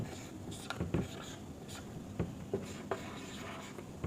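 Chalk or marker taps and scratches on a board as numbers are written, faint and sparse short strokes at irregular intervals over a quiet room background.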